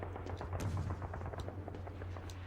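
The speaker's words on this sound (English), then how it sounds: "I do still hear gunfire, but it sounds kind of far away to me" Gunfire from a video game, with scattered sharp reports and bursts spread through the clip over a steady low hum, sounding somewhat distant and moderately quiet.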